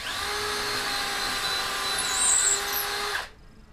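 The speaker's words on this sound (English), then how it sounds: "Pre-drill the hole." A power drill pre-drills a hole in wood while a dog house cradle is assembled: a steady high whine runs for about three seconds, rises slightly as the bit bites, then stops abruptly.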